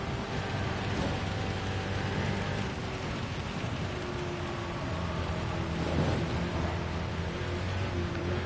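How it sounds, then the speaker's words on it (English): Rain pours steadily over a racing car in the Gran Turismo 7 driving game, heard from the cockpit as a dense, even hiss with a low engine drone beneath and no talk. "Why does it have to rain, man?"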